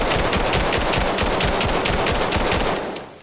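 Rapid, evenly spaced gunfire from a weapon in the video game Vail hammers out in a continuous loud burst of about twenty shots, then stops abruptly, with no talk.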